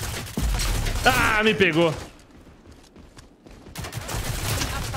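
Shotgun fire from the character Chaac in the Rogue Company video game, heavy bursts at the start under a loud voice, then a quieter stretch before game noise swells again.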